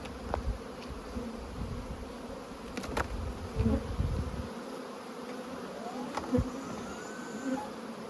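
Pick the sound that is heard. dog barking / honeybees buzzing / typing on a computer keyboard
honeybees buzzing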